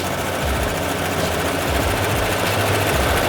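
Embroidery machine stitching 3D puff foam onto a hat at around 850 stitches a minute, a loud, continuous mechanical drone with rapid rhythmic thumping, close by.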